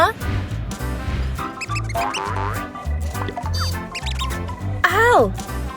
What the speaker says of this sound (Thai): นั่นเสียงหนูหรือเปล่าที่ฉันได้ยิน